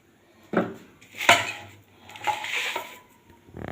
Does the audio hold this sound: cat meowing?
no